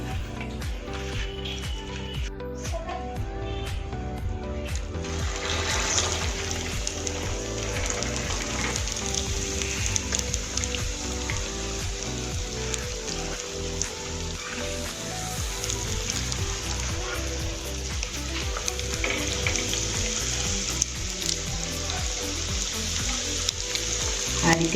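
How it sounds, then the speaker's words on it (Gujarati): Corn kebabs deep frying in hot oil at medium heat give a steady, dense sizzle and crackle that runs unbroken and fairly loud for the whole stretch, with no talking over it. "હવે આપણે કબાબને ફ્રાય કરવાની શરૂઆત કરીશું."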